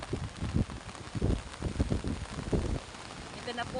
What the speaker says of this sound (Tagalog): Basang-basa na kayo ng ulan.